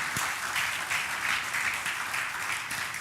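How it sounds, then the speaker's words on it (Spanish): A congregation applauds during a Spanish-language church sermon, a continuous wash of many hands clapping with slight swells, steady and moderately loud throughout. "Den un aplauso al Señor si usted lo cree"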